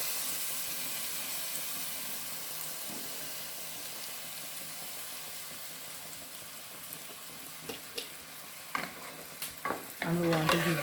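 Heavy cream being stirred into a pot of curry goat pasta: a soft steady sizzle and hiss that ends in louder wet scraping and sloshing stirring strokes.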